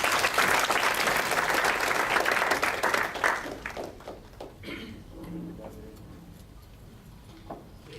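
Evening event audience gives a big round of applause to an entrepreneur speaker, loud steady clapping that fades out after a few seconds into a quieter room with scattered claps and murmuring.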